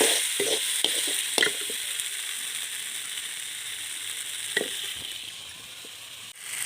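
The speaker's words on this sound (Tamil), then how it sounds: "தக்காளி நல்லா வதங்கி வந்துடுச்சு" Tomatoes sauté in a pan for a vegetable pasta dish. A steady, gentle sizzle runs throughout, broken by a few sharp scraping clicks from stirring, with no one talking.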